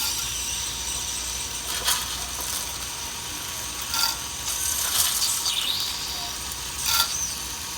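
Mustard seeds, cumin and urad dal sizzle in a few spoons of coconut oil while cooking dal rice, giving a steady frying hiss with a few brief sharper pops and crackles.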